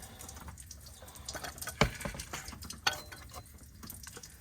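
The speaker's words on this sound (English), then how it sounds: "There comes your rusty water." Rusty coolant draining from around the water pump of a 5.9 Cummins diesel engine, a faint trickling and splashing of liquid with a couple of sharper clanks or drips standing out.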